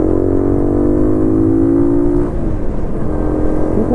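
An Amigo 125 CT70 tribute motorcycle pulls away, its engine note close and loud with rising harmonic tones that break into rougher rumble as it gets moving.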